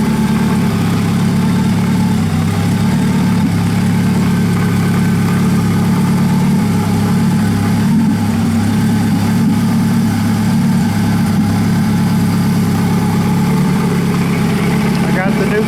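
Engine of a WAR Corsair replica aircraft idling at about 1,000 RPM with the throttle untouched, a steady, loud, low droning hum that holds even throughout.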